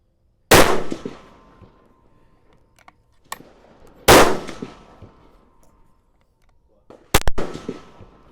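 Rifle firing Berger VLD bullets on a range: three sharp, loud single shots spaced a few seconds apart, each with a short decaying echo. The last shot is followed by a quick cluster of extra cracks.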